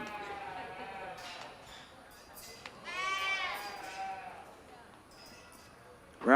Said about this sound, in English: Lindsay, what are you doing to that goat?